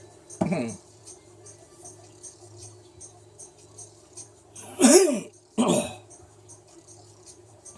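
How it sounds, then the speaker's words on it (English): A few short, rough bursts of throat clearing, the loudest two close together near the end, over a low steady hum. "Pardon me clearing my throat there quite a bit"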